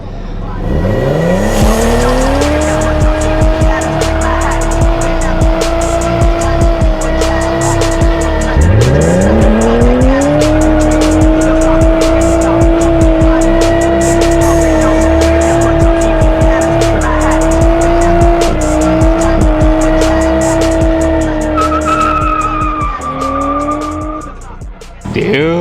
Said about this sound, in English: The most important thing that we discovered is it does great burnouts.